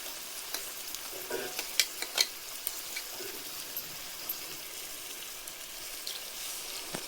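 Leftover masala is stirred into bamboo shoot ennegayi frying in a pan. Scattered close scrapes and clicks of the spoon sound over a soft, constant sizzle.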